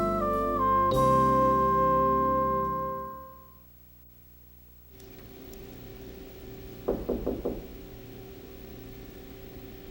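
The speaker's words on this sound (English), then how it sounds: "Is that someone at the door?" Four quick knocks on a door, close and fairly loud, come after sustained music fades into a quiet room hum.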